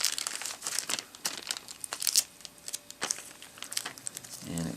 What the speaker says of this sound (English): And it comes in plastic here, so let's get that off of here.